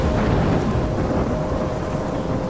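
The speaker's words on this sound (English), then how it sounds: "I'm trapped in a storm?" A thunderstorm in the video game Life is Strange: loud, continuous rumbling thunder over steady heavy rain, dense and unbroken with no voices.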